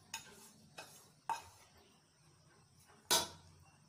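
Chitranna rice made with curry leaves being mixed with its seasoning in a pan, with a handful of sharp spoon scrapes and clacks against the metal between quiet stretches, one louder knock near the end.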